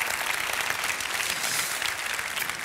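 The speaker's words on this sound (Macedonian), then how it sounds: "За мене беше аплауз." Studio audience applauding on a television quiz show, a steady wash of many hands clapping that holds evenly throughout at moderate loudness.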